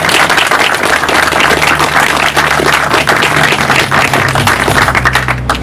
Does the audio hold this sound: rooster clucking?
no